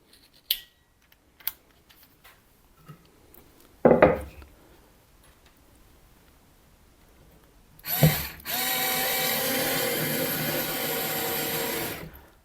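A Ryobi 4V USB lithium compact cordless screwdriver drives and removes screws, with a short burst of motor whir near the middle and a louder, steady whir lasting several seconds toward the end, separated by faint clicks and quiet handling.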